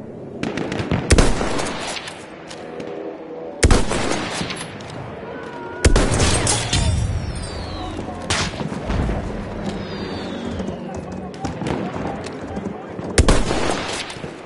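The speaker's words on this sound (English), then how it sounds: "Machine gun." Bursts of gunfire and heavy booms from a PS4 military shooter game, with sharp loud blasts recurring over a continuous rumble of battle noise and scattered rapid shots.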